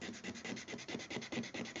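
Rapid rhythmic strokes of sandpaper rubbing on a wooden knife handle, close and steady, about a dozen back-and-forth passes.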